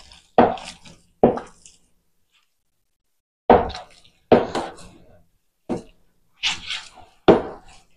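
Hands knead dough for rice-and-milk empanadas, Guerrero style, making close, irregular soft thumps and squishy slaps in short bursts with brief pauses between them.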